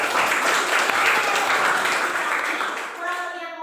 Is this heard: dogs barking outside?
no